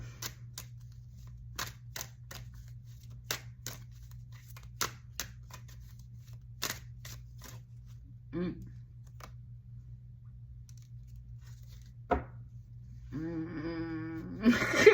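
Tarot cards being shuffled and drawn from a deck, heard as a run of soft, close clicks and flicks spaced across the stretch, then a denser burst of rustling card handling near the end, over a steady low hum.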